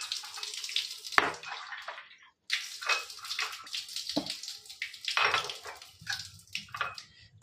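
Tap water pours into containers for a TDS test in a series of close, uneven gushes and splashes with brief pauses between fills, no talk.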